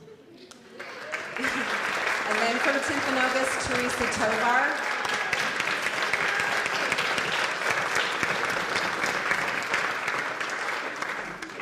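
Sustained applause from an audience fills the clip, steady and loud throughout, with a voice announcing over the clapping.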